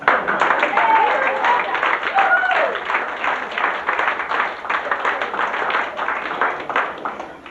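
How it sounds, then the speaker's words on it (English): Audience applause for a fashion model on a cruise ship runway show, steady clapping that continues throughout, with a voice talking over the start and crowd noise mixed in. "Give her applause."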